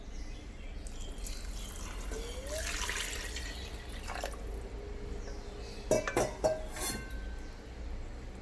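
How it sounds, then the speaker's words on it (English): Four cups of water splash and trickle steadily into a rice cooker pot with rice in it, with a few sharp clinks and drips near the end; no talking. "Now we're going to add in the 4 cups of water."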